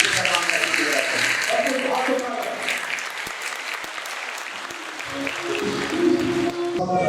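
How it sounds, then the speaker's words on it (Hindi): Sustained applause from a church congregation, dense clapping that holds steady throughout with a slight swell near the end. "हम भरपूर तालियों के साथ इसके सलाम करते हैं"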